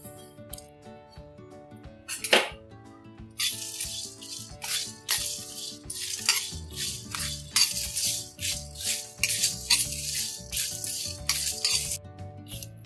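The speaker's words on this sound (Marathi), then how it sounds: "मेथी दाणे आहेत चमचाभर, आणि जिरं आहे चमचाभर। हे सगळं चांगलं भाजून घ्यायचं।" Fenugreek seeds and cumin dry roasting in a pan for mango pickle spice: a sharp clatter at the start, then repeated rattling and scraping of seeds and a spoon against the metal pan, loud and close, in irregular bursts without speech.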